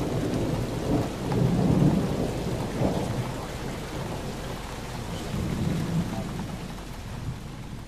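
A thunderstorm rolls on steadily, with a deep rumble of thunder swelling early and fading again beneath the constant hiss of rain, and wind adds to the wash of sound throughout.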